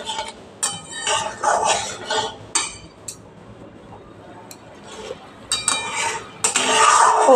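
A spoon stirring turmeric and spices in a metal pan for a hilsa fish curry with taro and potato, bursts of close scraping clinks and clatters broken by short quiet gaps.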